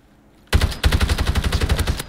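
Call of Duty gunfire bursts in out of near silence, a loud, rapid string of shots in a steady rhythm lasting about a second and a half, with no talking over it.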